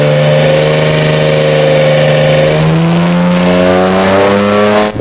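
A Mercedes CLK GTR race car engine revs hard and loud at close range, its pitch climbing steadily as the tone rises and sharpens, with no talk over it.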